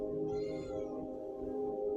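A cat meows at a closed door, one drawn-out plaintive cry that rises and then fades, heard close against a steady low hum.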